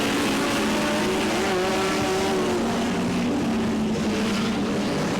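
Formula 500 race cars circling a speedway under caution during a heat race, a steady, loud, continuous engine drone with shifting tones from several cars, no talk over it.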